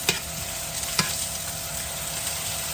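Fresh green beans cook down in a hot pan with a steady, even sizzle, close and moderately loud, with a couple of sharp utensil taps near the start and no talking.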